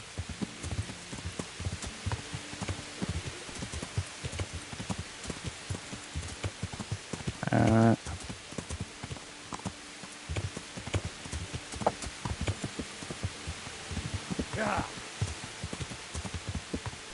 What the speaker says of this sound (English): Come on, you dodgy horse.